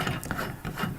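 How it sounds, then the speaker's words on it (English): A bolt being wound in to fix a 1.18 m WC frame, a close, continuous grinding ratchet-like rasp with rhythmic rubbing pulses over about a second. "We put the bolt through and we wind it in."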